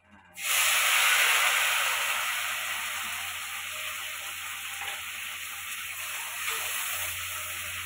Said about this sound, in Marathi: मोहरी फुटत असते, जिरे तडतडलेत. पहिले मी याच्यामध्ये कोथिंबीर टाकते